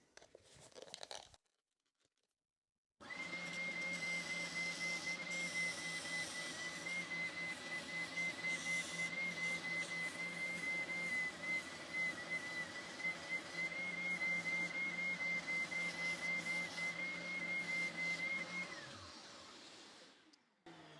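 A Triton 450 W oscillating spindle sander runs alone on wood for about fifteen seconds, with a steady high whine over a continuous rasping drone that starts and stops abruptly.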